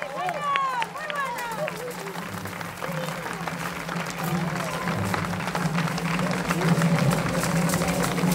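Crowd applause at an outdoor fair for a horse performing a difficult exercise in a castle moat in Marcilla, steady and sustained for several seconds, with a voice talking over it throughout.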